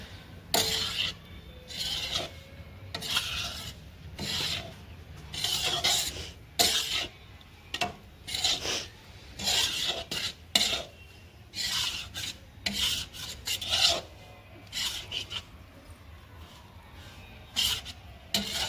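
Khoa (milk solids) for pinni is stirred in a thin kadai, a repeated rhythmic rasping scrape of the spoon against the metal, close and steady with low background noise.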